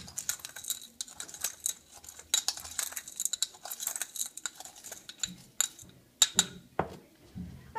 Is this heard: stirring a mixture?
yes